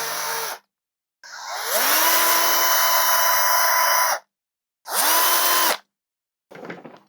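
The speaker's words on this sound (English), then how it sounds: "I'm going to keep on drilling and drilling also through the wrist joint" A power drill drilling into plastic whirs in three separate bursts, spinning up to a steady high whine each time, with short silences between; close and loud.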